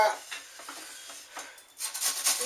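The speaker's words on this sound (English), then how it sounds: "We're going to cut our onion in half. And we're going to grate this." Half an onion rubbed against a grater's holes for shepherd's pie, short scraping strokes in an uneven rhythm, close and fairly quiet.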